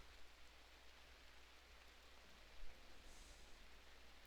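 Rain falls in the video game RimWorld, a steady soft hiss of drops with no break, faint and even throughout.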